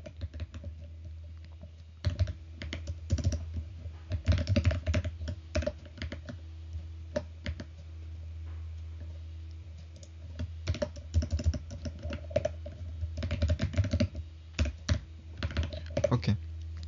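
Typing C program code on a computer keyboard, with steady clusters of close, crisp key clicks in irregular bursts separated by brief pauses, over a low constant hum.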